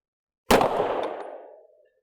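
A single suppressed gunshot firing Ammo Incorporated Stealth ammunition: one sharp report followed by a short decaying ring, close and alone.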